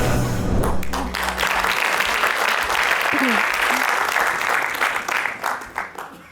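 An audience applauds at a comedy sketch show, with dense, loud, continuous clapping and some voices mixed in. It holds steady before thinning and fading toward the end.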